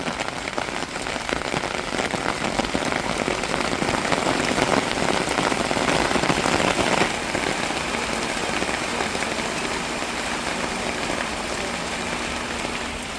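Heavy rain from Cyclone Ditwah pours down steadily, a dense continuous roar of drops drumming on surfaces, loud and close with no voices.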